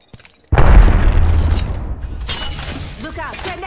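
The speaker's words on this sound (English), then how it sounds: "Look out, grenade." Grenade detonating in the Apex Legends video game, a sudden loud boom with a sharp crack that decays into rumbling debris, followed by faint game effects.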